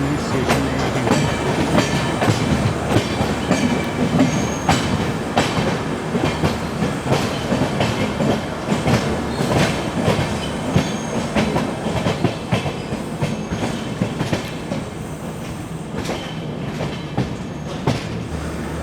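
Train led by twin Pune-based WDG4 diesel locomotives, heard from aboard an AC 3-tier coach on the Poorna Express: steady loud rumble with continuous clickety-clack of wheels over rail joints and a faint squeal near the end.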